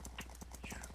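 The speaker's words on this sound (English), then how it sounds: "Horse races!" Horse hooves clip-clopping in a Minecraft horse race minigame, a quick regular run of faint clops, with no talk over them.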